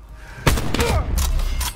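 A single loud gunshot cracks out in Black Ops 4, a sharp booming thump followed by further game noise and mechanical clatter.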